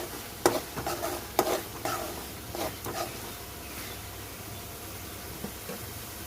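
Masala frying in oil in a pan while a spoon stirs it, with scraping clicks and clatters in the first seconds over a soft, faint, steady sizzle.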